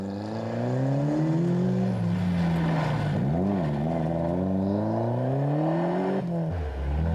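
Rally cars race through a snowy stage at the 1994 Circuit of Ireland Rally, engines revving hard and loud, pitch climbing and dropping through gear changes as they pass close by.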